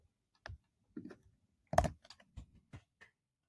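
Keystrokes on a computer keyboard as a search for cold plunge tanks is typed into Google, a handful of separate clicks spaced irregularly, close and fairly quiet with no talking.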